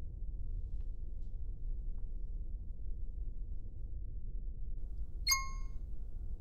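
A phone notification gives a single short, bright ding about five seconds in, set against a steady low background hum with no talking.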